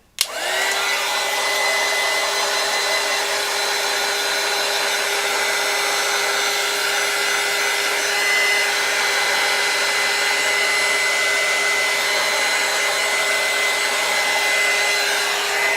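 A hair dryer blows over a watercolor pet portrait in progress, switching on with a click and then holding a loud, steady whirring roar throughout, with no talking.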